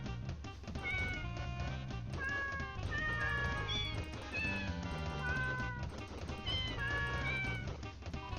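Repeated cat meows ring out in the Deltarune Cat Petters fight, a string of clear, drawn-out mews riding loudly over steady, busy battle music.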